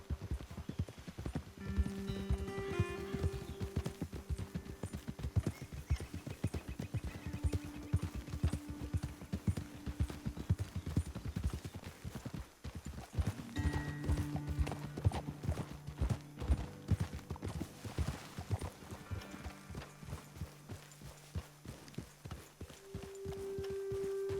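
Horse hooves clip-clop steadily on hard ground in Red Dead Redemption 2 over a backdrop of game music, with a horse whinnying now and then.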